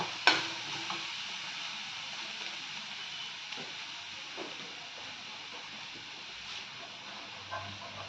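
Shark puttu stirred in a pan over a high flame makes a faint, steady hiss of frying, broken by a sharp scrape at the start and a few quiet taps from the spatula.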